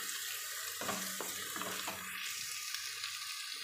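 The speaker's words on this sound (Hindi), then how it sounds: "अब इसे भूनेंगे थोड़ी देर। प्याज को हिलाते रहिए," Chopped onions sizzle and fry steadily in a pan, with a few louder scraping stirs in the first two seconds before the hiss settles into a continuous, close frying sound.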